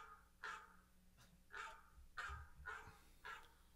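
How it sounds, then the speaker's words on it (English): A dog barks faintly in the background, about six spaced, muffled woofs spread over a few seconds, distant and low in level with some breathy noise between them. "Whose dog is barking?"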